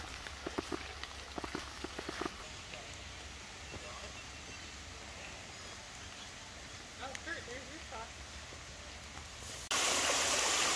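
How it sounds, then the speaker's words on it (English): A creek and small waterfall pouring into a pond along the Appalachian Trail between Route 183 and Route 501, a steady faint rushing wash with a few clicks and knocks, growing louder and closer at the very end. "Nice little waterfall."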